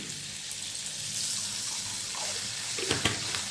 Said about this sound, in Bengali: এবার আমি এখানে ম্যাগি সেদ্ধ হওয়ার জন্য জল দিয়ে দিচ্ছি।